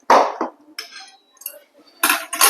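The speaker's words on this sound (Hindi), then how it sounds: "और अभी हम इसको निकाल लेंगे डिश में" Maggi noodles being served from a pan into a dish, with several sharp metallic clinks and scrapes of utensil against cookware in separate bursts, close and fairly loud, with gaps of near silence between them.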